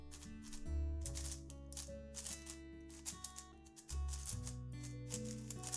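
A new speed cube being turned by hand, a rapid series of sharp plastic clicks and clacks in quick bursts, close and fairly quiet with short pauses between runs of turns.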